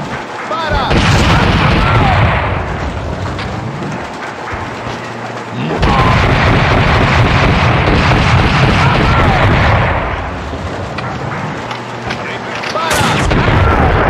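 Loud, dense gunfire and booming blasts fill a shootout in the 2003 PS2 game Max Payne 2, in sustained bursts with brief lulls, while voices shout over the din.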